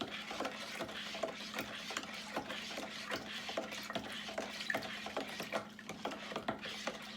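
Sugar syrup being stirred for feeding bees, a steady series of soft scraping and clinking strokes at close range over a constant low hum, moderately quiet with no talking.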